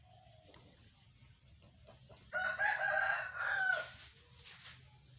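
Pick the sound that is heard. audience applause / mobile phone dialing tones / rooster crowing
rooster crowing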